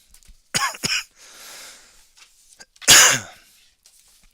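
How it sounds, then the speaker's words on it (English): A couple of harsh, close coughs, a breathy pause, then one loud, rough cough, with quiet between them. "Sorry, my coughing is harsh."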